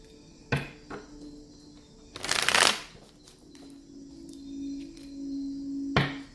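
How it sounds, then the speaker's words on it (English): Tarot cards being shuffled by hand in a quiet room: a short riffle burst stands out in the middle, with lighter flicks and taps of the deck before and after it. "One last shuffle for Aquarius."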